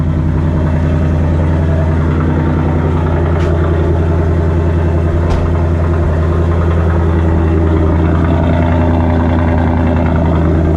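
A 2024 Ford Mustang GT with a Gen 4 V8 rumbles at idle, its deep exhaust growl loud, steady and pulsing close by, with no one talking.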